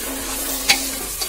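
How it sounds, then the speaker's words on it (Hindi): Rice with tomato, garlic-ginger-cumin paste and spices frying in a pan for Pahadi chhachiya, a soft steady sizzle with a sharp utensil tap midway and a fainter one near the end. "चावलों को मैंने मसाले के साथ भून लिया है।"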